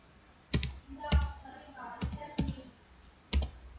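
A handful of separate, sharp computer keyboard keystrokes, quiet and close, with pauses between them and soft speech in the background.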